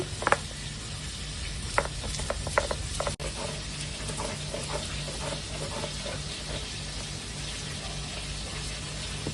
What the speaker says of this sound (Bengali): আদা রসুন বেটে নিচ্ছি